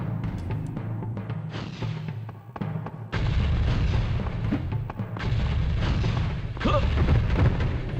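Gunfire and heavy booming blasts fill the video game Mortal Kombat Special Forces, dense rumbling explosions and shots rolling on in loud bursts with a brief lull in the middle.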